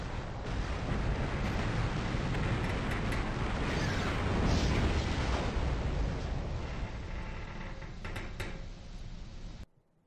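A starship's reactor breaching and exploding in a video game, rendered as a loud, sustained roaring rumble that swells for several seconds, crackles with debris toward the end, then cuts off abruptly.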